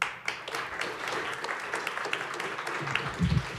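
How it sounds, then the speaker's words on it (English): Steady crowd applause, a dense wash of clapping that holds evenly throughout with a few louder bursts near the end. "Let's give another round of applause to all of our speakers for tonight."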